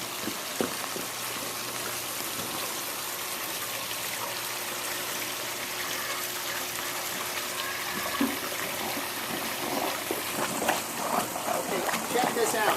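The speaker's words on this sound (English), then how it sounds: "So when I have it on, this actually has a Pondless Waterfall." Rainwater splashes steadily through a pump-driven pondless waterfall in a Los Angeles yard, a continuous close hiss and trickle of falling water, with a voice faintly underneath.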